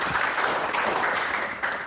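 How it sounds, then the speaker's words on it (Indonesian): Church congregation applause for God, a dense, steady wash of many hands clapping at once, filling the room loudly and evenly before easing slightly at the end. "beri tepuk tangan bagi Tuhan"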